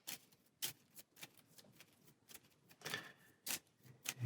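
A small deck of turn order cards riffled and shuffled, a string of crisp, quiet flicks and snaps in an irregular rhythm, close by and alone.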